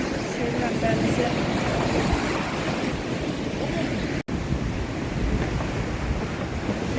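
Rough sea surges and churns on a windy evening, a loud continuous wash of waves with heavy wind buffeting the microphone close by.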